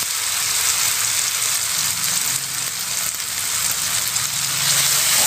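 Fermented soybean paste (tauco) thinned with water sizzles steadily as it is added to a hot pan while cooking white tofu, a continuous loud frying hiss with no talk over it.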